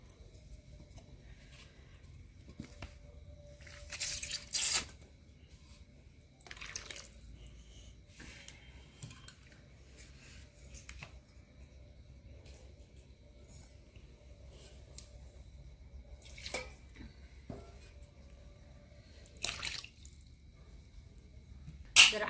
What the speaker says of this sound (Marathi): आता जे काय मिक्सरचं भांड जे वगैरे होतं ना ते आता धुवून वगैरे सगळं टाकते त्याच्यामध्ये